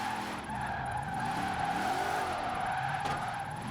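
A high-powered car on poor tires slides with wheelspin in Forza Horizon 4, its engine holding a steady loud drone under continuous tire squeal as the drift carries on.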